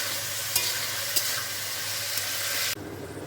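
Salted food sizzling and frying steadily in a pan over a high gas flame, with a few brief stirring clinks before the sizzle drops off near the end.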